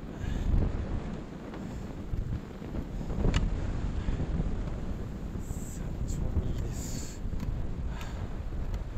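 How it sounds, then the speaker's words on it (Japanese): Wind blowing on a mountain trail, a steady low rumble of gusts buffeting the microphone throughout, with faint voices and distant higher tones in the background. "向こうから風が吹いてそうやね"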